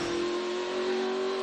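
A NASCAR race car engine at the 2011 Coca-Cola 600 fires back up and roars loud and steady with a sustained high whine, holding at high revs for a moment.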